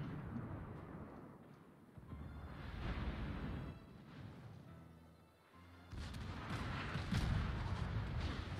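Heavy booming cannon fire from a warship's secondary cannons in a video game rumbles in repeated bursts, loud and continuous with deep low thuds, like a sustained battle barrage.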